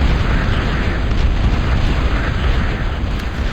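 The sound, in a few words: bombing run explosions in a video game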